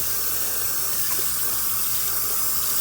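Tap water runs steadily into a sink while pickling vegetables are rinsed, a continuous close hiss and splash with no talking.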